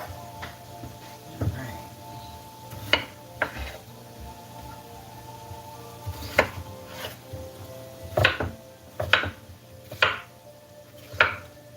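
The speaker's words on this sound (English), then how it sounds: "let's go ahead and peel these potatoes" Potatoes being peeled for potato soup in a home kitchen, a run of scattered scraping and knocking strokes, some sharp, with a low steady hum beneath.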